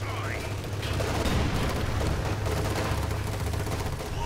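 Machine gun fire in the World War II strategy game Company of Heroes 2, dense continuous bursts with booming battle noise mixed in, with a voice talking over the din.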